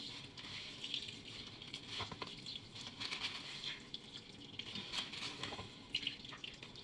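Shredded zucchini wrapped in cheesecloth is squeezed so its liquid runs out in faint, irregular drips and small trickles that repeat quietly throughout, with no talking.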